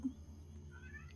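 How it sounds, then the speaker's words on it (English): A short, faint meow from a cat in a quiet room, over a low steady hum. "Sorry for the cat."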